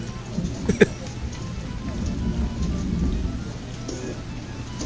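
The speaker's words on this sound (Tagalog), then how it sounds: "Wait a minute! Ulan ngayon ah." Steady rain patters with a low rumble of thunder rolling underneath, while a voice briefly speaks and a couple of knocks sound early on.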